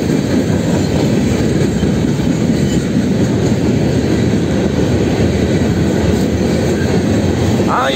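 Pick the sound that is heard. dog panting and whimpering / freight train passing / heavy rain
freight train passing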